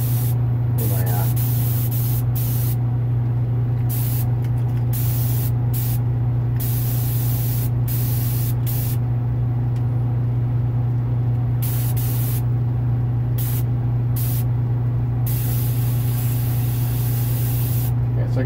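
Paint spray gun, shown with its fan pattern set to medium and its fluid nozzle opened, giving a loud, continuous hiss of air and paint with a steady low hum under it, broken by brief gaps.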